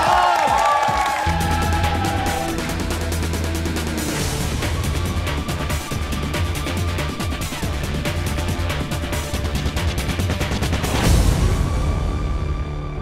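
A studio audience at a Korean magic show breaks into sustained, dense applause and cheering after a trick. The clapping runs loud and steady throughout and swells near the end.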